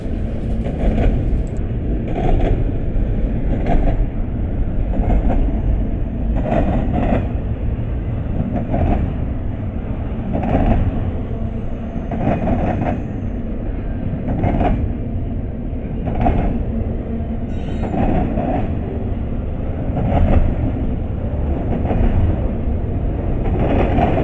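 A long intermodal freight train rolls steadily past on its way to a Chattanooga, Tennessee rail yard, with a continuous deep rumble and a repeating rhythmic clack of wheels over rail joints, loud and close throughout with no talking.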